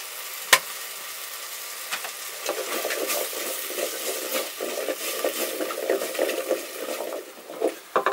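Tomatoes simmering in a pot for minestrone with black pepper and herbes de Provence, a steady soft sizzle and bubble with occasional stirring scrapes, close and moderately quiet, a sharp clack near the start.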